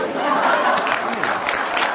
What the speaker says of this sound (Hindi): जो लोग तालियां बजा रहे हैं वो भी सोचें जरा किस चीज पे तालियां बजा रहे हैं